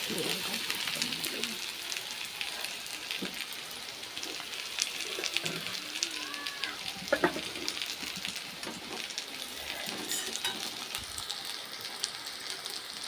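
Pointed gourd slices frying in oil in a pan on a gas stove, a steady soft sizzle and crackle running throughout at moderate level, with faint voices in the background.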